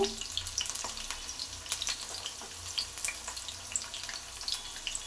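Brinjal pieces fry in oil for thokku, a soft continuous sizzle with scattered sharp pops and crackles close by, under a faint low hum and without speech.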